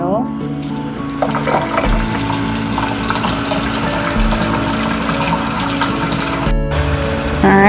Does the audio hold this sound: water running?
yes